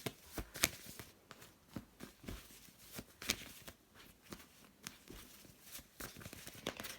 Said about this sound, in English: So let's pull cards on that.